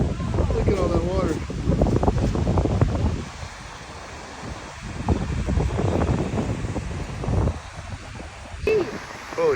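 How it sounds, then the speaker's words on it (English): Strong gusty wind roars across a flooded, foggy creek, buffeting the microphone in heavy rumbling surges, with rushing water underneath and a voice speaking briefly. "See the wind blowing up through here, how fast it's going, Roy?"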